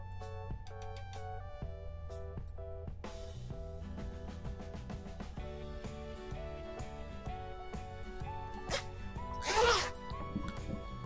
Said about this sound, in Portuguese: Quando eu faço o cursor, eu passo até o final para fechar esse zíper.